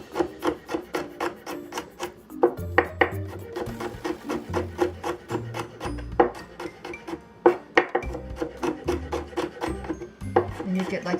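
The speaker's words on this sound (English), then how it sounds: "let's slice the garlic and ginger" A knife slices garlic and ginger on a cutting board in quick, regular taps, a close rhythmic series of sharp chops with a few heavier thuds, while someone talks quietly at times.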